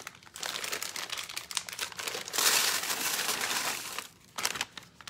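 A package of chocolate chips being opened with scissors: sustained crinkling and crunching of the plastic bag, close and busy, swelling louder in the middle before a brief lull and a final rustle.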